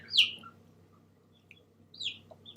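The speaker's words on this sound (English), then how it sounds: "Oh, look at the chicks. Aren't they cute?" Small chicks peeping in a spring coop, a bright high chirp near the start and another softer cheep about two seconds later, with quiet gaps between and no talking.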